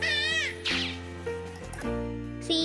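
A cat meows loudly at the start, then again with drawn-out, rising cries, set against a steady musical backing in a children's alphabet lesson.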